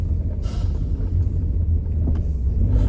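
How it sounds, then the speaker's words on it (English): A 1980 Plymouth Gran Fury R-Body Pursuit police car driving, its V8 giving a deep steady rumbling idle and low engine drone close by, with a brief clunk partway through. "I'm going to move this 1980 Plymouth Gran Fury R-Body Pursuit over to the trailer"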